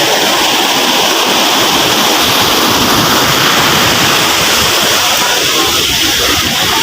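Sea waves wash continuously at close range, a loud, steady broadband rush of surf and water with no pauses and no voices.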